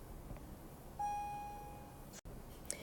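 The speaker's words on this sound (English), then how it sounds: "that was the bell, and yes, I am at school, or it was a PA announcement" A single electronic school bell or PA announcement chime sounds in a classroom, a clear sustained tone with harmonics lasting about half a second before fading, followed by quiet room noise.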